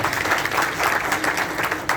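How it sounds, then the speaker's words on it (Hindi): Audience applause at an agricultural export workshop in India, a dense burst of many hands clapping steadily for the full two seconds, loud and close, with no speech over it. "उनके लिए एक बार मैं चाहता हूँ जोरदार ताली सब लोग करें"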